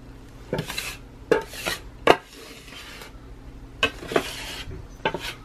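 Flour being mixed into gordita dough in a bowl: scattered scraping, stirring and clinking of utensil against the bowl in short irregular bursts, close and moderately quiet, with no talk.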